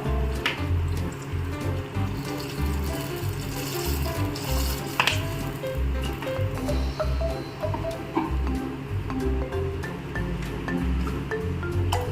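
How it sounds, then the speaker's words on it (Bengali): Half-cooked chicken and capsicum in a pan for homemade chicken momo sizzle and bubble after water is added, a continuous close crackling with scattered pops and ticks across twelve seconds, with no talking. "সো এই সময় আমি এতে জল দিয়ে দেবো।"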